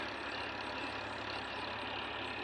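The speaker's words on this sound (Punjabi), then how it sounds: "ਤੁਹਾਨੂੰ ਟਰੈਕਟਰ ਦੀ ਆਵਾਜ਼ ਸੁਣਦੀ ਹੋਣੀ" A tractor engine idles without pause in a rice paddy field, a low mechanical drone with a broad rumbling hum and no voices.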